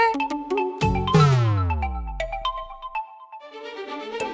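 A mobile phone ringtone plays a bright melodic jingle of clear electronic tones with a descending sweep, loud and close, sounding alone without talk.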